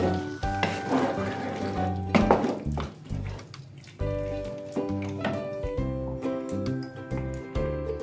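Potato korma is stirred in a pan, giving light sizzling and occasional spoon scrapes, partly buried under prominent background music.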